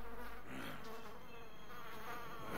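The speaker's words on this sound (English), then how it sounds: "Building a better beta. Collecting the wasps." Wasps buzzing in the Dead Rising 4 video game, a continuous close insect drone that swells and wavers without pause and with no talk over it.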